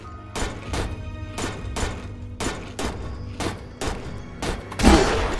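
Booming shotgun blasts in the video game Zompiercer fire one after another, about ten sharp shots in quick succession, each with a short echoing tail.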